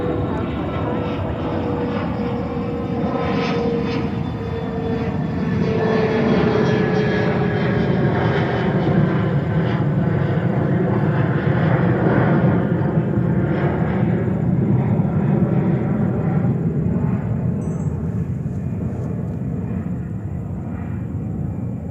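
Aircraft engines roar steadily near JFK airport in New York, a loud continuous broadband rumble with slowly shifting whine tones as planes pass, no words spoken over it.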